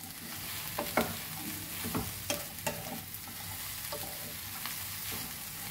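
Sliced okra sautés in a pan, a continuous soft sizzle broken by irregular scraping stir strokes from a spatula, close and moderately quiet, with no voices.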